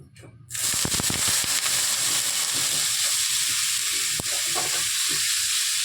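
Water poured onto a hot oiled pan for semolina dosa bursts into a loud, steady sizzle right after a brief quiet start, hissing continuously up close with a few sharp crackles.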